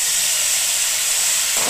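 Water poured into semolina in a hot pan gives a loud, steady steamy sizzle that hisses without a break.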